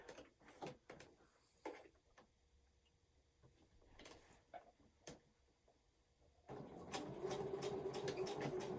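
A sewing machine stitches up the sides of a fabric bag in short bursts of quick mechanical whirring separated by pauses and handling clicks, then settles into a longer, louder continuous run.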